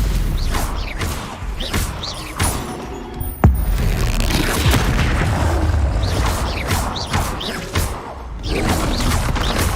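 Confringo blasting-spell explosions in the video game Hogwarts Legacy: repeated booming impacts and crashes in a busy battle, one sharp blast standing out near the middle, under a continuous din of combat effects.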